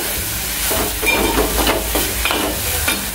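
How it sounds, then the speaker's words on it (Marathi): Dried shrimp (jawla) sautéed in oil with chilli, salt and spices, sizzling steadily with repeated scraping stir strokes from a spatula, close and fairly loud, with no talking. "जवळा त्या तेलामध्ये, त्या मसाल्यामध्ये चांगलं परतून घ्यायचा आहे।"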